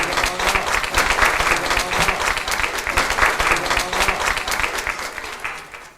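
A studio audience claps steadily at a televised event, a dense wash of applause that holds strong and then tapers off near the end.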